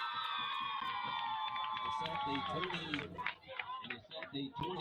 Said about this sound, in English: As the crowd is yelling at our defense to keep it up, keep everything going.